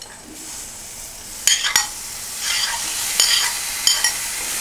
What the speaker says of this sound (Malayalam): ചിക്കൻ പീസ് ചേർത്ത് നന്നായി ഒന്ന് ഇളക്കുക.